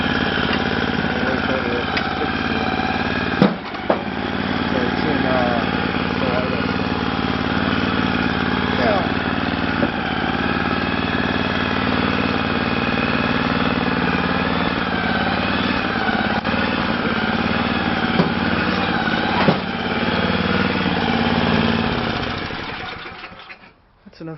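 An Ariens snowblower engine runs steadily after a cold start, a loud continuous small-engine drone with a brief knock early on, holding steady before cutting off at the end.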